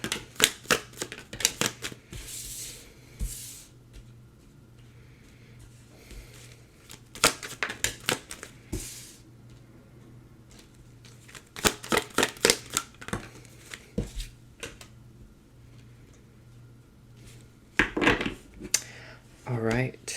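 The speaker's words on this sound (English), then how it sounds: "Pull some cards for you here." Tarot cards are shuffled and pulled in bursts of crisp riffling and flicking snaps separated by quieter gaps, close by, with a voice speaking at times.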